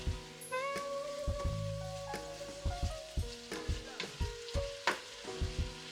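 Spaghetti sauce cooking in a pan while being stirred: soft sizzle under repeated close clinks and scrapes of a utensil against the pan, coming in quick irregular bursts, with a faint tonal ring early on and no speech.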